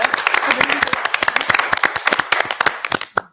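A live audience at a contest finalists' announcement bursts into quick, close rapid clapping that thins out and ends in a few scattered last claps.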